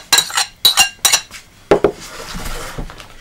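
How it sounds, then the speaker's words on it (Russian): Cottage cheese goes into a bowl in a kitchen: three sharp clinks against the bowl, then a soft, muffled spill and light scraping, with no voices. "Высыпаем творог."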